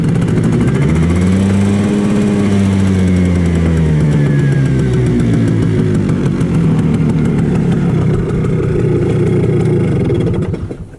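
A small Simson moped engine fitted with a nitrous oxide system runs loudly and steadily close by, its pitch rising and falling as it revs up and settles.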